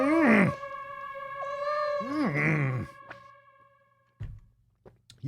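A cat gives two drawn-out, whiny meows close by, the second rising into a yowl, followed by a few soft thumps and quiet.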